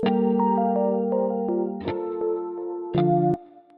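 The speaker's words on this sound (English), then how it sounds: "This is a major chord, split up." A clean, effects-laden guitar plays a major chord arpeggio, broken chord notes one after another, with three strummed re-attacks ringing out over about four seconds.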